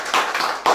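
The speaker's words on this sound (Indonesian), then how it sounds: "Kasih tepuk tangan buat Tuhan kita." Clapping during an online church service, a few short bursts of handclaps with a brief lull between them, fairly close and without talk.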